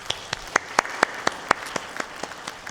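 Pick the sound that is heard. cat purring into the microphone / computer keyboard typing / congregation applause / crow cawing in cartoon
congregation applause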